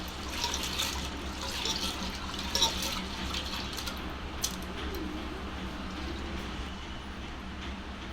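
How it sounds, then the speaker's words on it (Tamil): Quiet sloshing and trickling water with soft splashes as lentils are washed, a steady low wash of liquid close by. "நல்லா ஒரு கழுவிக்கணும்."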